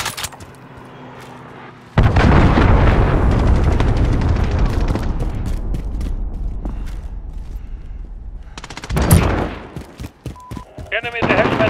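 A cruise missile strike and gunfire in a Call of Duty: Modern Warfare multiplayer Domination match: a quiet stretch breaks into a loud, dense roar of blasts and rapid shots that rolls on for several seconds, followed by scattered sharp cracks.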